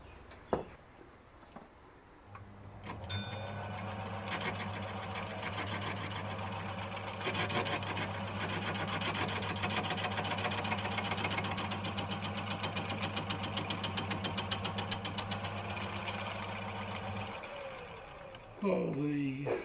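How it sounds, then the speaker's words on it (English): A lathe machines the face of a Gingery dividing head part, a steady motor hum and cutting rub that runs for about fifteen seconds at moderate loudness, with brief handling noises at the start and end. "So I'll start machining the face of that off."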